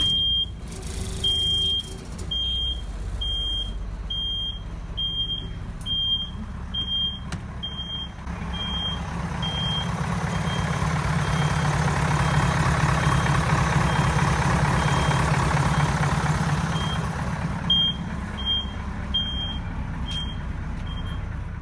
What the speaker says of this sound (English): the darn thing will fire straight up. And it is a diesel